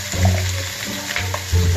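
Pork leg for adobong pata frying in a pan, crackling and spitting in close, busy bursts with a bubbling sizzle throughout.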